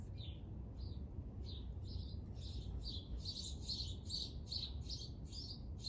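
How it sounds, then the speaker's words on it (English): Several small birds chirp and tweet outdoors in repeated short bursts, moderately close, over a steady low background rumble, with no talking. "Can you hear the birds?"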